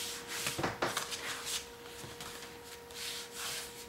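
A folded paper page being burnished for a handmade 16-page journal, heard as soft, close rubbing and scraping strokes in short bursts that come and go without speech.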